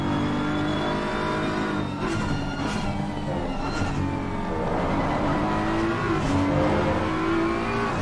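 McLaren race car engine roaring at Oulton Park circuit, a loud, continuous harmonic drone that rises and falls through gear changes, with other racing cars' engines layered underneath throughout.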